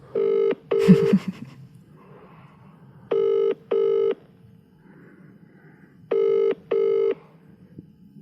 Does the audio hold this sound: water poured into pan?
no